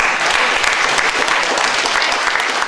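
A small audience at a regional accordion gathering in Auvergne claps for a performer, a brisk, even patter of many hands held at moderate loudness for the entire moment.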